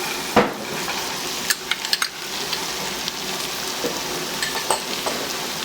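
Ginger, garlic and green chili paste sautéing with onions in a pan while making Thalassery chicken biriyani, a steady close sizzle with a few clinks and scrapes of a stirring spoon against the pot, no voices.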